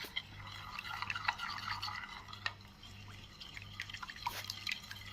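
A batter slurry for chicken drumsticks is whisked in a bowl, giving quick wet ticking and sloshing strokes, soft and close, repeating in an uneven rhythm with a faint low hum underneath.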